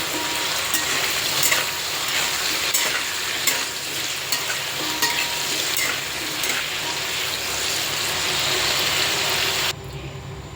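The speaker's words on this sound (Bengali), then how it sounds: "অল্প পরিমাণে একটু লবণ দিয়ে দিচ্ছি এবং দিয়ে দিচ্ছি সামান্য হলুদ এবং আলুগুলো ভেজে নিচ্ছি" Potatoes fry with salt and turmeric in a pan, giving a dense, steady sizzle and crackle that runs close and loud, with occasional stirring clicks, before easing slightly at the end.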